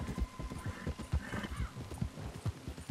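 Horse hooves clip-clop in a steady trotting rhythm with a whinny partway through, in the Red Dead Redemption 2 video game, close and clear with no talk over it.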